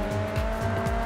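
Tires squeal on a Nissan Silvia drifting in the GRID 2 racing game on PC, the wavering screech riding over a loud, steady engine drone, with no voices.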